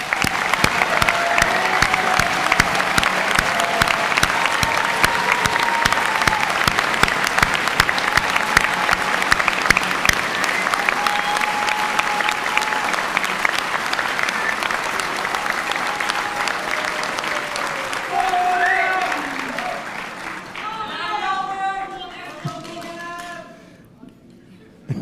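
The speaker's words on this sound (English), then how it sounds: "Please can I ask you to join me in a round of applause." A graduation ceremony crowd at the University of Salford gives a long round of rapid, even clapping, loud and sustained, with some voices and tones emerging as the applause thins and fades near the end.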